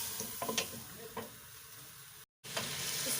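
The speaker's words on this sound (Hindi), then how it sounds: "यहाँ पे चिकन को हम हाई फ्लेम पे कुक करेंगे" Chicken frying in a pan over a high flame for a white Mughlai qorma, a steady sizzling hiss with scattered spatters and a brief dropout near the end, no voices.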